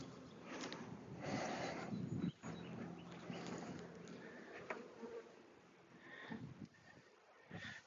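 Honeybees buzz in a continuous close hum around an open hive, with soft rustling and handling noises of frames sliding mixed in.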